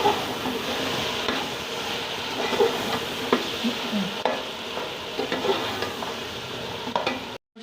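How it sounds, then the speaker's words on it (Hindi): Tenderised goat meat for bakra pulao sizzling and frying in a pot with fried onions, a steady close crackle broken by repeated scraping stirs, with no talking. "अब इसमें जो गोश्त गलाया है वो हम इसमें डालकर भूनेंगे।"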